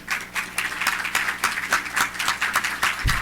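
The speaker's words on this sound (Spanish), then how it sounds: "sí, un aplauso porque vamos a hacerlo." Audience applause at a World Heart Day event, a steady run of fairly close hand claps with no speech, ending in a brief low thump.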